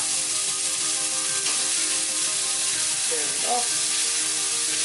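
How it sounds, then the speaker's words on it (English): Garlic and onions sauté together in a pan, giving a steady, close hiss of frying that runs evenly throughout, with a brief spoken word near the start. "Saute for about 30 seconds, so you just kill the rawness of the onion."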